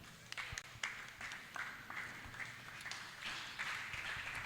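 A church congregation applauding at a Bible seminar closing service: steady, fairly distant clapping from many hands, uneven and crackly, continuing without a break and without voices on top.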